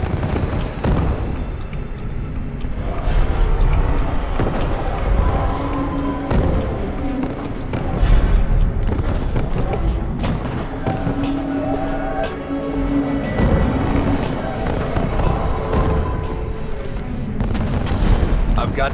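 A TAC cannon fires in Crysis Remastered, with repeated heavy booms and rumbling explosions running through a dense, loud battle mix for nearly twenty seconds.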